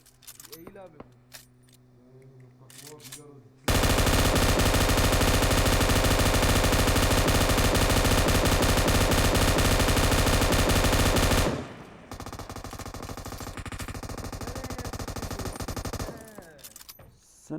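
Sustained rapid automatic gunfire in PUBG Mobile, very loud and close for about eight seconds, then quieter shooting continues; someone speaks Turkish before the burst.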